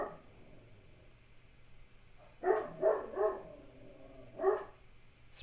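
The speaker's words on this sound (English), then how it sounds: "My dogs are barking." Several dogs barking indoors in a home, a cluster of three quick barks followed by a single bark a moment later, moderately close over quiet room noise.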